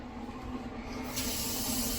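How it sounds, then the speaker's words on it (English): A can of Lysol disinfectant spray lets out a steady aerosol hiss that starts partway through and keeps going to the end, over a low constant hum. "There's some Lysol. Here, I'll spray my..."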